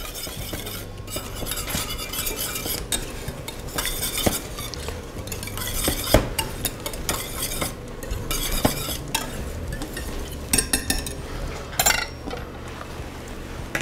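Butter being stirred into a reduced sauce in a pan to emulsify it, a steady scraping and swishing of a utensil against the pan with soft liquid sounds, close and continuous.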